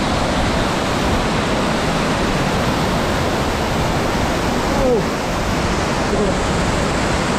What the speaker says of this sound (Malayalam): പുന്നയാർ വെള്ളച്ചാട്ടം ഏകദേശം 80 അടിയോളം ഉയരത്തിൽ നിന്നാണ് വീഴുന്നതെന്നാണ് നമുക്ക് അറിയാൻ കഴിഞ്ഞത്